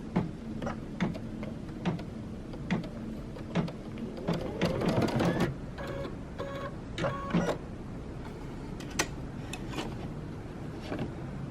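An embroidery machine stitches fabric applique in the hoop for coasters, a steady run of quick mechanical needle ticks and whirring at moderate level, with a brief denser burst of motor buzz midway.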